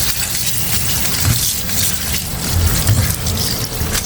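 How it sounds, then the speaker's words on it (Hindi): Cold water pours over cooked spaghetti in a continuous splashing gush, loud and close, with a few brief surges in the flow and no talking. "अब हम इसके ऊपर डालेंगे ठंडा पानी।"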